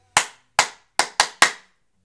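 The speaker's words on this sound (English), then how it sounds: "If you clap even once when I clap that rhythm, you're out." Hands clap a rhythm in a music game: five sharp, close claps, two spaced apart then three in quicker succession, alone with no talk.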